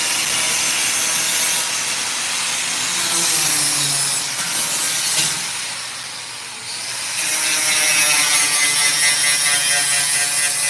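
A flap disc grinding metal in a welding shop, a loud continuous whirring abrasion that eases off briefly near the middle before coming back up to full strength.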